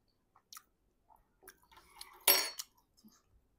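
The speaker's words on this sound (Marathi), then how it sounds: "डाळीसोबत आपण छान हा जिरा राईस खाणार आहोत." Someone eating basmati jeera rice with thick dal, giving a few soft, sparse chewing and mouth sounds, with one louder clink of utensil against a plate near the middle; close and quiet, no talking.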